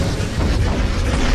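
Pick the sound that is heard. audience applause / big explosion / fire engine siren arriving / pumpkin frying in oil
big explosion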